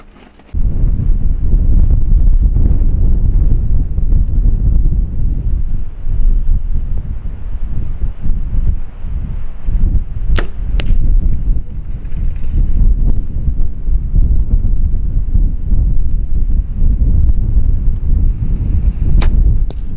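Strong wind buffets the microphone in a continuous loud roar outdoors during bowhunting in South Africa, with a few sharp snaps cutting through near the end.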